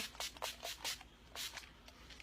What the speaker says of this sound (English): you just spray that on